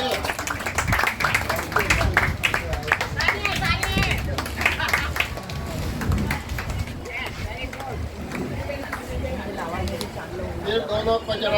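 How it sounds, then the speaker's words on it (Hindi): Applause from a gathering at an anniversary celebration on Juhu Beach, scattered outdoor clapping with wind buffeting the microphone, mixed with voices talking throughout. "फिर बाद में तालियां बजती रहनी चाहिए।"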